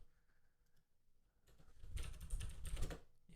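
Typing on a computer keyboard at a desk: quiet at first, then a quick burst of clustered keystrokes, close and fairly soft, with no talking.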